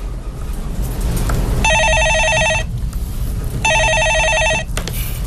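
A telephone rings for an incoming call: two bursts of a bright electronic trill, each about a second long and separated by a pause, over a low background hum.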